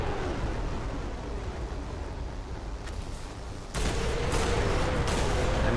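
Calliope rocket artillery impacts in War Thunder, a dense, continuous rumbling barrage of blasts that swells louder partway through, with no talking over it.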